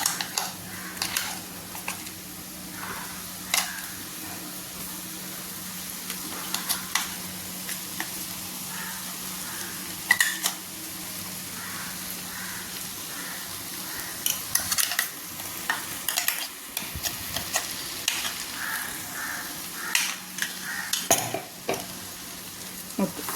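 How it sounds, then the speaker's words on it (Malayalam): Ground curry leaf paste stirred into hot oil for a curry leaf pickle, giving a steady soft sizzle with scraping stir strokes and faint clinks running throughout. "നമുക്ക് അരച്ച് വെച്ചിരിക്കുന്ന കരിവേപ്പിലയുടെ മിശ്രിതം ഇതിലേക്ക്"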